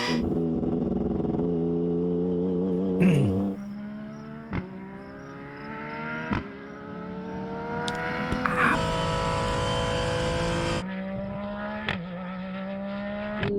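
Ken Block's Hoonipigasus race car with straight-cut gears whines and revs through rising gear pulls, with sharp shift breaks and bursts of acceleration, heard loud and close from an onboard perspective without talk.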